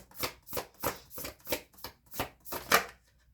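Tarot cards are shuffled in seven crisp, evenly spaced riffling bursts, close and clear, ending in a brief silence.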